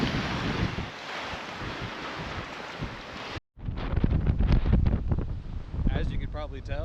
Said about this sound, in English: Wind is blowing a steady, I don't know, 15 at least,